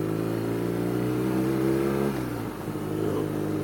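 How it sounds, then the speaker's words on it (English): A BMW R nineT motorcycle with twin Akrapovic exhaust cans drones in a steady low engine note while riding, easing off briefly before picking back up, heard from the rider's helmet. "The tone from the exhaust is absolutely gorgeous"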